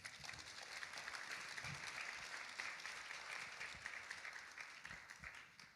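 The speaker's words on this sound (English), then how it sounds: "that deserves an applause in and of itself" Audience applause at a Seattle day of remembrance for gun violence victims, a steady wash of many hands clapping at moderate distance that holds evenly for several seconds with no voices over it.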